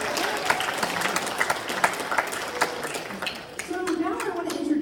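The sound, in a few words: audience applause for Port San Antonio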